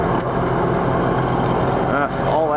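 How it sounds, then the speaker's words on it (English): A tractor engine runs loudly and steadily nearby, a constant mechanical drone with a voice speaking briefly over it. "the tractor's running great."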